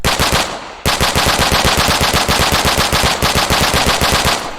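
Rapid automatic fire from a PP2000 submachine gun in a Battlefield-style video game, a dense steady stream of loud close shots with one short break near the start, no voices.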